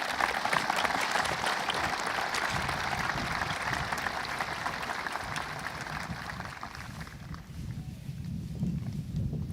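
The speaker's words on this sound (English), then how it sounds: "Please give him a round of applause." A high school commencement audience applauds an honorary diploma recipient, sustained broad clapping from a large crowd that holds steady for most of the stretch and then thins slightly near the end.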